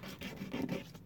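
A credit card being sanded into a guitar pick with 400 grit sandpaper gives a steady, close rasping scrape in quick back-and-forth strokes, with no voices.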